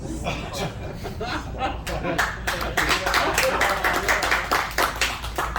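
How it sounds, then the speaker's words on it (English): A short burst of audience clapping at a magic show in a theatre, a small crowd applauding for a few seconds with scattered chuckles and voices mixed in. "that was a very nice little burst of applause"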